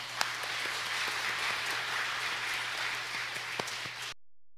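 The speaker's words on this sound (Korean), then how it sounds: "하나님께 영광의 박수 올려드리겠습니다." Congregation applause during a church service, a steady, fairly soft patter of many hands clapping over a low background hum with a few sharper individual claps, ending abruptly in silence.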